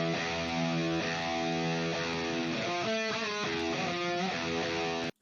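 Distorted metal rhythm guitar tracks played only in the low octave, a dense, sustained chugging wall of heavy tone with chord changes and a brief rhythmic stutter near the end before stopping abruptly.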